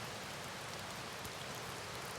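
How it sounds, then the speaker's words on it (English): Rain falls steadily at night on a gold-prospecting claim campsite near Copper Creek in Washington, a faint, even hiss of drops with no voices. "It's still raining"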